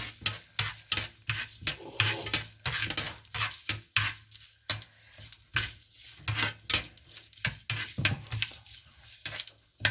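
Curry leaves and urad dal fry in hot oil for an instant chutney mix, a soft sizzle broken by frequent scraping and clinking stirs against the pan, close and quiet with no talking.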